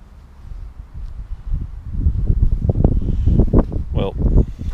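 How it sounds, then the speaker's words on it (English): Gusty outdoor wind blows against the microphone, starting light and then rising into strong, uneven low-pitched buffeting bursts close up. "I'm gonna say the wind is gonna win."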